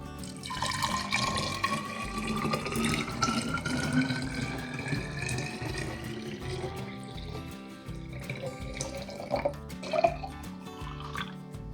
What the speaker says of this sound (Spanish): Y ahora vamos a agregar 1 litro de agua filtrada.